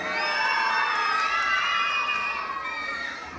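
Audience at a school pageant cheering and shouting, a dense, sustained roar of high-pitched voices and whoops that swells and holds, fairly loud.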